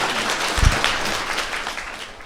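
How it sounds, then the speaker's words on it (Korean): A lecture audience at a science talk gives a short burst of applause, dense clapping that swells briefly and tapers off over a couple of seconds. "다시 한번 박수 부탁드릴게요."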